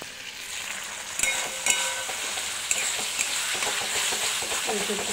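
Chilli chicken pieces sautéing in a home kitchen pan, a steady close sizzle with scraping spatula stirs and occasional sharp clinks against the pan, no voices.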